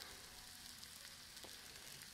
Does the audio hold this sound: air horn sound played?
no